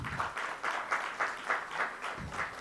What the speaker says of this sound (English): Please join me in welcoming them with a warm round of applause